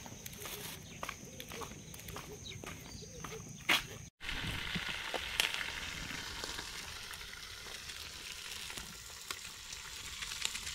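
Chicken frying in a pan while cooking for a party gives a steady close sizzle with scattered clicks and stirring knocks. It drops out for a moment partway through, then carries on.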